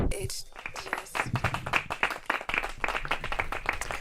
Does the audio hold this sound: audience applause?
yes